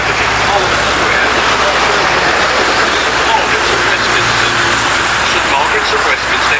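Steady, dense road traffic in Parliament Square, London, a continuous wash of car, bus and truck engines idling and moving nearby, loud and unbroken throughout.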